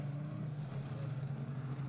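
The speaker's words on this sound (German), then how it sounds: "Die Motoren dröhnten, die grobstolligen Reifen fraßen sich in die Grasnarbe" Autocross race cars with knobby tyres run on a grass track at a Hohenlohe event, a continuous droning engine hum heard from a distance, steady and fairly faint, with no talking.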